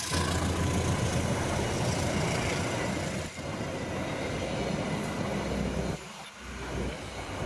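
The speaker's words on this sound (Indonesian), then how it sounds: "lokomotif dinas Banyu Biru KA209A" A locomotive hauling the Banyu Biru train rumbles past at close range over a railway bridge, a loud continuous roar of engine and rolling wheels that briefly dips before surging again.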